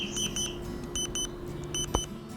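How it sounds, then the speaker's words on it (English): An air quality monitor beeping beside a backyard fire: short electronic tone pairs repeat in bursts with gaps between them, fairly clear over a low steady background hum, with one sharp knock near the end. "almost immediately the air monitor started beeping"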